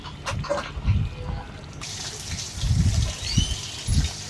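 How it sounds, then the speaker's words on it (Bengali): Hot water is poured into washed rice that has been fried until browned in a pot. A hissing, sizzling gush starts partway through over low stove and kitchen noise, with no talk. "ভাজা পরে এগুলো হচ্ছে গরম পানি দিয়ে দিলাম।"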